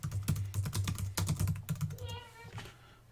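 Typing on a computer keyboard while replying in a Moodle forum, a brisk run of close, light clicks that tapers off near the end.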